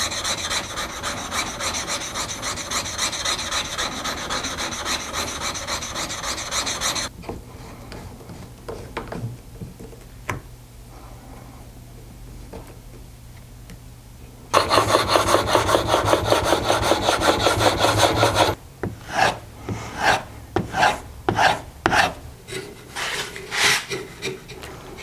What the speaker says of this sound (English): So now I'm going to take both of the knives and put a quick edge on them